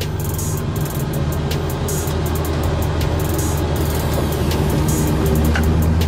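A 1975 convertible donk on Dayton wire wheels cruising, a deep steady engine drone with road rumble and scattered clicks and rattles from inside the car, loud and continuous.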